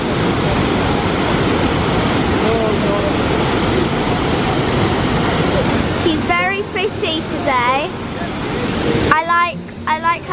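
A waterfall in Hellesylt among the Norwegian fjords roars as a loud, steady broadband rush, with people talking close by over it for the last few seconds.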